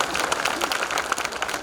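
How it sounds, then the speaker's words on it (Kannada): Audience at a spiritual discourse in a village clapping together in a steady, dense patter of applause that fills the space evenly throughout. "ಇದು ನಿಮ್ಗೆ ಇಷ್ಟ ಇದ್ರೆ ಚಪ್ಪಾಳೆ ತಟ್ರಿ"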